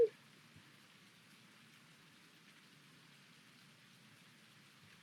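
Steady rainfall in Farming Simulator 19, a soft continuous patter of drops at low volume with no voices, after a brief click at the start.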